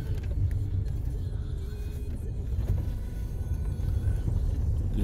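A car drives along a country road past forest lakes, its steady low engine and tyre rumble continuous and close throughout, with no voices.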